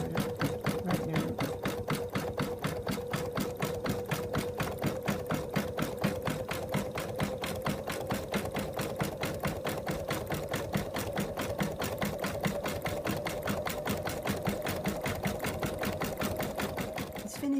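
Embroidery machine stitching a satin outline, a rapid, regular needle clatter that repeats evenly and stays close and steady the whole time.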